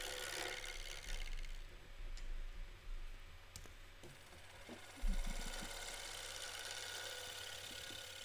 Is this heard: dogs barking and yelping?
no